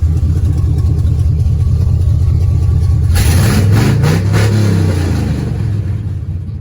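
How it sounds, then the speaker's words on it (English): A pickup truck engine fitted with new headers idles with a deep, loud rumble, then revs up sharply for a couple of seconds before settling back toward idle. "Give it some nice revs."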